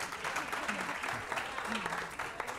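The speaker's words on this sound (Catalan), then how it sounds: "és que la gent aplaudia" A TV quiz show studio audience applauding, a dense continuous clatter of clapping throughout at moderate loudness.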